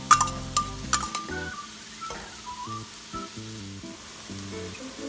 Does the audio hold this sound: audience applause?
no